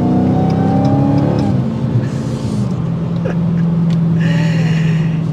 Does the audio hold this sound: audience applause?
no